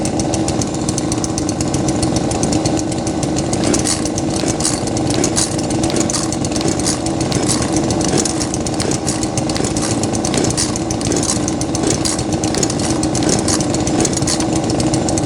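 A Shindaiwa 352S chainsaw of about 35cc, left unused for a while, runs steadily and loudly up close with a constant rasping two-stroke drone throughout, and no one speaks.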